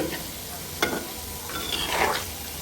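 Constant crackling sizzle of gulab jamun frying in hot oil, with a few scraping stirs over it; close and steady, no voices.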